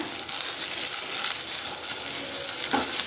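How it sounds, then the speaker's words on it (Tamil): Garlic and tomatoes frying in a pan over a medium flame, with a steady broadband sizzle and soft scraping stir strokes throughout, close and fairly loud, with no talking. "எல்லா பக்கமும் எல்லா சைடும் நல்லா வெந்து வர்ற வரைக்கும் பரட்டி விடுங்க."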